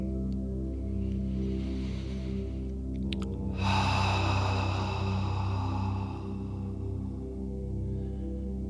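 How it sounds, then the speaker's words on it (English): A slow, long exhale during a breath work and chanting session, a soft airy rush rising midway and fading over a few seconds above a steady low drone. "just breathing into that space and exhaling"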